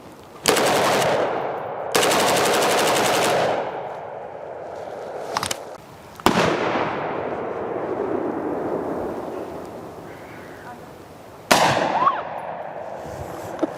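A 7.5-inch M16 fitted with a Carlson Nitro Flash Enhancer fires outdoors in several loud, sharp bursts and single shots, each trailing off in a long echoing decay.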